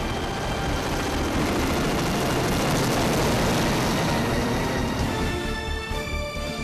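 A very large firefighting helicopter, a Terminator that drops 10,000 liters of water at once, works over a wildfire; a loud, steady, dense roar of rotor and rushing noise fills the whole stretch with no voices.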